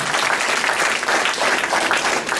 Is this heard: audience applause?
yes